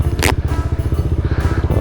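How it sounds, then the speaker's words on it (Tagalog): A motorcycle engine runs steadily up close, a loud, throbbing idle with regular pulsing beats and no talk over it. "Lakas ng motor natin."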